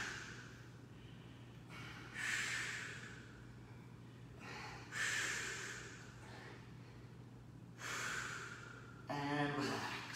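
Deep, slow breaths in and out during a floor stretch in a home kickboxing workout, four long airy exhales spaced a few seconds apart over a steady low hum, close and fairly quiet.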